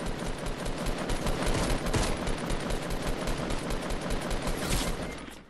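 Continuous rapid automatic gunfire in the video game Fortnite, a loud dense barrage of shots running for several seconds without a break.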